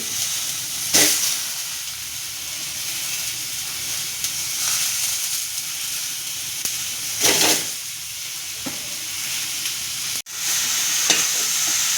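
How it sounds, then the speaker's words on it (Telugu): Tomatoes frying in a pan give a steady, close sizzle and hiss throughout. A few brief stirring scrapes cut through it, and there is one sharp knock near the end. "ఇప్పుడు టమాటాలు ఫ్రై చేద్దామండి."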